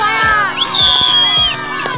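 An outdoor village crowd at a team challenge game cheers and shouts, loud and close, with high whooping voices rising over the noise for a couple of seconds.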